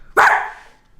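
A person imitates a dog, letting out a single loud, close bark-like shout that cuts in sharply and then fades over half a second into a quiet room.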